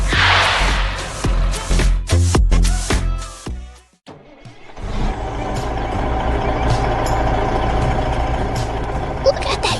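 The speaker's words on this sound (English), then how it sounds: "Yellow truck team. It's heading out from the warehouse with a very heavy roller in tow." Heavy yellow truck pulling out of a warehouse with a very heavy road roller in tow, animated scene: a loud, steady engine rumble that fills the second half after a burst of clattering, music-like hits and a brief quiet gap.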